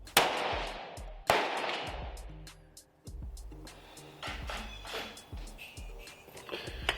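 Sharp, loud rifle reports from a Savage B17 MDT precision rimfire rifle in .17 HMR at an outdoor range, two distinct cracks followed by quieter clicks and handling noises of the bolt and gear.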